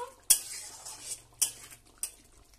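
Bitter gourd curry with cashew and poppy seed paste is stirred in a pan after sugar goes in. A utensil scrapes and clinks against the metal in three sharp, separate knocks, with a quiet low hum between them.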